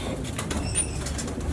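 Firozpuri pigeon flapping its wings in a series of soft, quick wingbeat bursts, faint and close against a low background hum.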